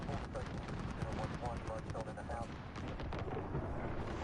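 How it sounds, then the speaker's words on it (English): A precision airstrike in Call of Duty: Modern Warfare rumbles as a heavy, continuous barrage of blasts and gunfire, with voices talking over the din. "Friendly precision airstrike."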